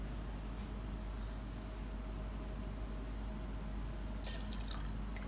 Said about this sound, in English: we're going to take 60 mils of the beautiful mulberry gin